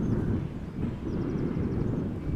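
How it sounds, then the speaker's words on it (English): A KLM Boeing 787 Dreamliner in the 100-years livery, arriving at Amsterdam Schiphol from LAX, produces a steady, distant, low jet roar mixed with wind buffeting. "This is KLM flight 602 arriving from LAX. It is also the Dreamliner in the 100 years KLM livery."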